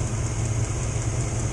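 A V8 car engine runs at a steady idle, giving a constant close low hum with a faint high whine above it and no talking.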